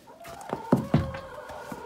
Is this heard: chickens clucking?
yes